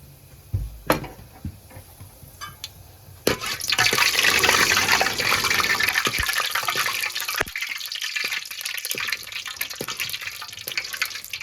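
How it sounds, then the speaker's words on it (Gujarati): Masala spices tipped into hot oil for a desi-style mutton curry: a few clunks, then a loud, steady hiss of frying that thins slightly as it continues, with occasional knocks of the pan or spoon. "તો આપણે મસાલો નાખી દઉં, તેલ ગરમ થઈ ગયું."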